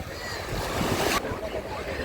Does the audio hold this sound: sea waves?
yes